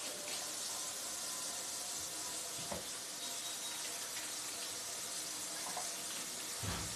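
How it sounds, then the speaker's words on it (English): Hands being washed under a running kitchen sink tap, a steady broadband rush of water that carries on for about seven seconds, with faint clatter in the background. "let me wash my hands off here"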